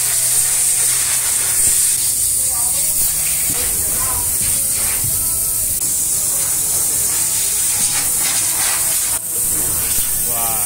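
A Toyota Avanza is sprayed down during car detailing, a steady loud hiss of pressurized spray running nearly unbroken throughout, with voices talking over it.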